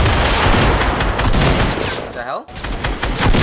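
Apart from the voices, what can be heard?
gunfire from a gun in the video game Fortnite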